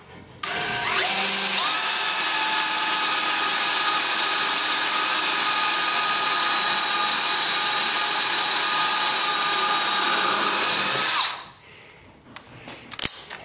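A power drill whines steadily at high speed for about ten seconds, enlarging a hole by stepping up drill bits, close and loud, then winds down and stops, followed by faint handling clicks.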